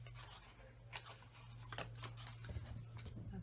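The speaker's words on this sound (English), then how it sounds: "I'm going to cut this last bit." Scissors snip through paper while a storybook box is crafted, several close, crisp cuts in an uneven rhythm over a low steady hum, with no talking.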